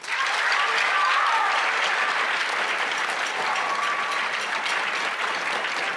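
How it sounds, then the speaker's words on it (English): An audience at a middle school band holiday concert gives sustained, even applause that stays loud and steady for the full six seconds, with no talking over it. "give her a big round of applause."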